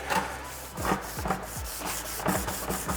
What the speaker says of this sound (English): now we're gonna move on to the 3000 grit, and this is foam pad I'm gonna use for that